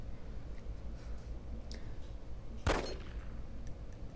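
A single sharp gunshot from a secondary weapon in the game DayZ, a loud crack on a target range rising abruptly out of steady background noise.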